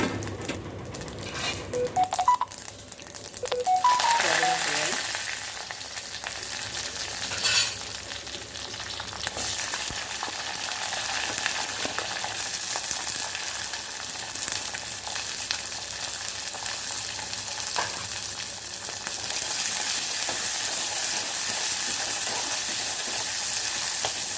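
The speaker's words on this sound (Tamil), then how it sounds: "வெங்காயம் நல்லா வதங்கிட்டுங்க" Onions sautéing in a pan for green chili tamarind mandi; a dense, continuous close sizzle with a few stirring knocks near the start, then even, unbroken frying.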